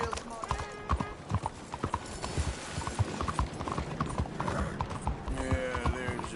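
In Red Dead Redemption 2, horse hooves clip-clop in a brisk, steady rhythm alongside creaking tack and a brief whinny, with voices talking over the trot.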